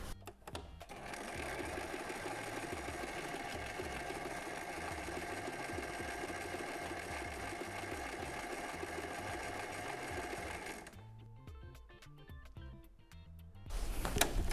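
A sewing machine runs steadily for about ten seconds, stitching a thick, close-set decorative stitch in a dense mechanical whir, then slows and stops before a brief restart near the end.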